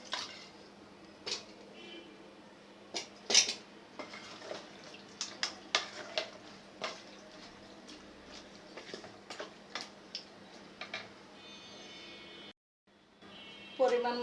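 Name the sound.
duck meat added to frying masala in a pot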